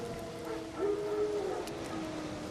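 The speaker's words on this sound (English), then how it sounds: "Wild dogs. Yes. More dangerous than wolves." Wild dogs in the video game The Witcher 3 let out a drawn, rising howl over a low ambient bed, swelling briefly in the middle before fading back to quiet background.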